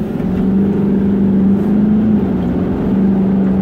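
A 2016 Chevrolet Silverado 2500HD with a Duramax diesel engine accelerates hard, giving a steady, loud low engine drone with a rising hum that holds for several seconds without any talk.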